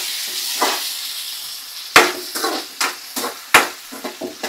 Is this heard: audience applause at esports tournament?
no